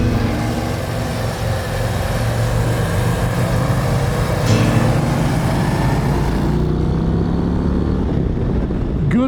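A 2024 Harley-Davidson CVO Road Glide ST motorcycle engine pulls hard under acceleration, a loud continuous roar with rising pitch and wind rush that drops away near the end.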